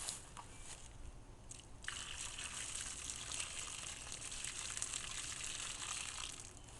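Water poured from a container onto flower bed soil around a metal ground rod, a steady soft gushing trickle that carries on throughout, close and alone.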